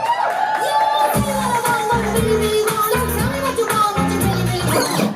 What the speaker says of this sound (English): Make some noise for Junior Booker.